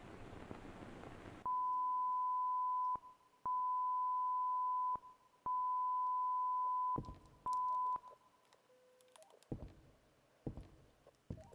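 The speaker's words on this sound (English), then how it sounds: "They want me to actually decipher Morse code." Morse code beeps in the horror game White Day 2, a steady pure tone pulsed in long and short bursts, clear and alone against a quiet room, followed by a few soft knocks and thumps.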